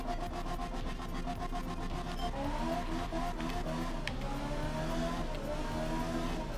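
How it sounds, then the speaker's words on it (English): A rally car engine accelerating in the video game art of rally, a steady loud buzzing drone rising in pitch through gear shifts, heard alone. "let's just accelerate"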